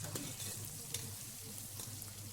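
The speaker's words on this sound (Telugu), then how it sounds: "ఆయిల్ వేసుకొని హోల్ గరం మసాలాలు, పుదీనా, కొత్తిమీర, ఉల్లిగడ్డలు అన్నీ వేసుకొని మంచి ఫ్రై అయిన తర్వాత" Whole garam masala, mint, coriander and onions fry in hot oil with a little salt, a steady close sizzle with occasional stirring clinks, no talk.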